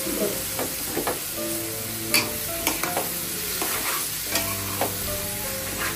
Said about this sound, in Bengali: ডিম দিয়ে দিই। দিয়ে নাড়াচাড়া দিলেই